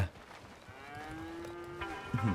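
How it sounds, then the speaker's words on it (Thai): A cow on a ranch in the video game Red Dead Redemption 2 lets out one long, drawn-out moo at close range, followed by a soft rustle, with no talking. "นี่ไงวัว"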